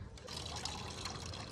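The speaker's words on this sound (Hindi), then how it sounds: "यहाँ आ गया साफ पानी, फिर यहाँ से पानी भर के ले जाएंगे" Clear glacier stream water trickling and splashing into a metal pot in Zanskar, a steady close gurgling flow lasting the whole moment, fairly quiet.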